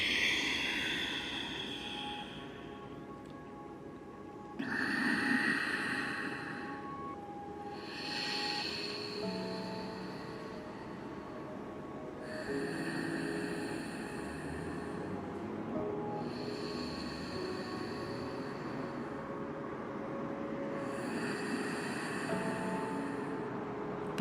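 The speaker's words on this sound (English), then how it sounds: "So let's just honor these 3 breaths." Slow, deep yoga breaths come close and clear, several long airy inhales and exhales in a steady rhythm over a faint background.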